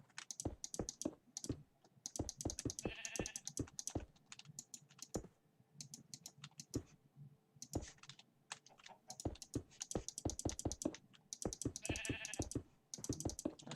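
Sheep bleating in Minecraft, a few short bleats breaking through dense, close keyboard typing and clicking while a castle is built.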